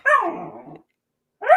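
A pet puppy gives two sharp barks nearby, the first trailing into a short growl, then a pause before the second begins.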